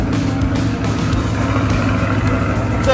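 A Chevrolet sports car engine runs loud and close, a dense low rumble that holds steady for a few seconds and swells slightly near the end.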